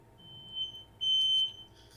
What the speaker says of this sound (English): setting off the smoke alarm